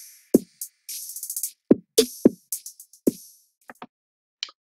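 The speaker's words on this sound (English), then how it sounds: "And from there I added in the kick" A sparse R&B beat in which a kick drum is added to hi-hats, with punchy low thumps spaced for a bouncy feel and crisp high ticks in between, heard alone and fairly close.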